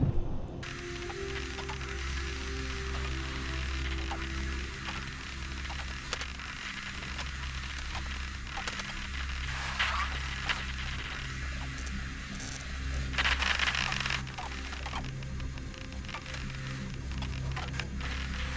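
A grinder tool in the Space Engineers game cutting down a structure, producing a continuous mechanical whirring and ratcheting drone with a steady low hum throughout.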